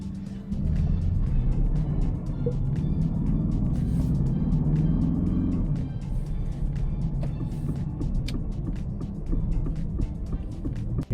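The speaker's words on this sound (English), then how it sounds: "There is a car coming." An Aston Martin DBX 707 drives past close by on a road in Italy, its engine and road noise swelling over several seconds and then easing off, with faint clicking of its turn signal throughout.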